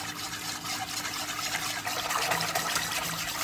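Steady water pouring into a vessel, a soft continuous hiss and trickle heard up close without any talking.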